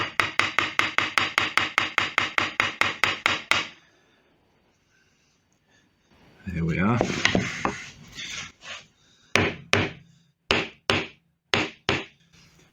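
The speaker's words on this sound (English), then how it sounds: "I have my small hammer handy just in case they need a tap on the end" A small hammer tapping fret wire into a wooden electric guitar fretboard, first with a fast, even run of about a dozen sharp taps. After a pause comes rubbing, then scattered single taps, and a voice speaks briefly.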